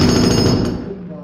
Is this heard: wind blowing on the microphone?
no